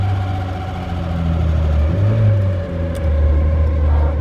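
A VW Scirocco engine runs at a steady throttle and drones as a low, sustained hum. It swells slightly midway, with no sharp revving peaks and no speech.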